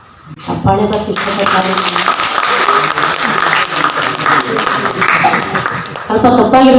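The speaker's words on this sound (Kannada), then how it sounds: "ಚಪ್ಪಾಳೆ ಬರ್ತಿತ್ತು." An audience in Nyana auditorium at Ravindra Kalakshetra applauds after a sung performance. The clapping is loud, dense and sustained for several seconds, with voices at the start and end.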